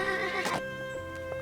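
A horse neighs loudly and close by in a drama scene, giving one sharp whinny over a steady musical backdrop and no speech.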